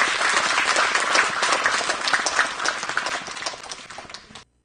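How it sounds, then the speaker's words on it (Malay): Audience applause for a professor at the close of a formal inaugural lecture, many hands clapping loudly and thickly for several seconds before cutting off abruptly. "Satu tepukan gemuruh untuk yang berbahagia Profesor."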